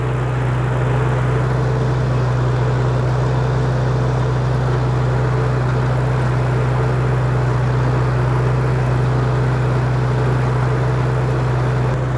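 A 1948 Farmall Cub tractor chugs along in first gear, its engine a steady, loud low drone with constant rumble throughout, no voices.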